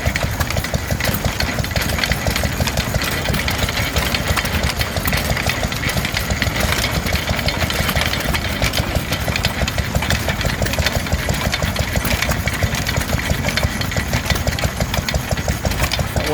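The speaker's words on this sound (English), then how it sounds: "Bradford drag saw here. It's a bit over restored, but it's very, very nice. Doing a day's work, you see," An over-restored Bradford drag saw runs its stationary engine through a log at a steam rally, with a loud, continuous, evenly rhythmic chugging and knocking that holds for the whole stretch, without talk.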